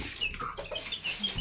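Three-week-old chicken clucking and peeping, a quick run of soft high chirps close by with no other sounds.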